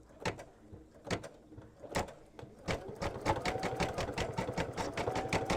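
A sewing machine stitches simple decorative snowflake stitches in white or silver rayon thread on a mug rug, starting with a few separate bursts and then running steadily in fast, even rhythmic pulses, close up.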